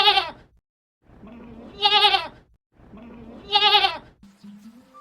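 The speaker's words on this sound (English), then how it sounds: "The goat bleats when it is hungry." A goat bleats three times in a row, each call loud, close and wavering, separated by short pauses, followed by a faint lower-pitched tail at the end.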